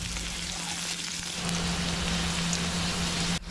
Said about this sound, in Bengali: আলুটাকে আস্তে আস্তে নাড়তে থাকলাম